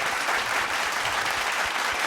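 An audience breaks into steady applause, a dense, even wash of many hands clapping at moderate volume throughout, with no talk over it.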